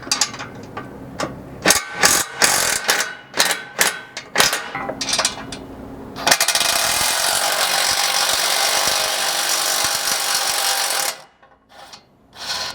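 A socket wrench loosens bumper nuts on a Polaris Ranger 1000 in a run of close, uneven ratcheting clicks and scrapes. A steady, loud grinding rasp of turning hardware follows for several seconds before a few quieter taps.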